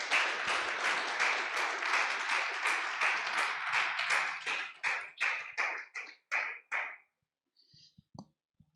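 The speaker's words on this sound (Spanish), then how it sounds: "Dele un fuerte aplauso a Dios nuevamente." A church congregation claps together in a steady, rhythmic beat for several seconds, then the applause thins into a few scattered claps and fades out.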